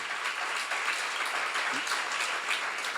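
Congregation applauding during a church seminar sermon, a steady wash of clapping, fairly faint and distant, lasting a few seconds with no talk over it.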